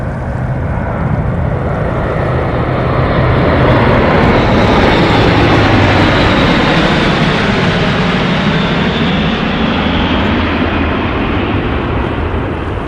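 Low-flying propeller airplane passing overhead near a pike-fishing spot, a loud, steady, broadband engine roar that fills the whole stretch and swells slightly mid-pass.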